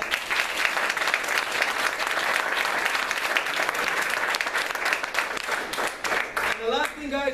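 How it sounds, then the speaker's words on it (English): Sustained applause from a crowd at an awards-type gathering, dense and steady throughout, with a few voices rising over it near the end as the clapping thins. "let's give them one last round of applause"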